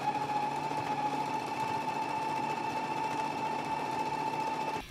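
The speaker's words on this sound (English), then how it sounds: "So let's go to the machine and do a 5/8 of an inch stitch right along this edge with the notches now." A sewing machine runs a continuous close, steady stitch along a collar edge, humming with a clear mechanical whine, and stops at the end.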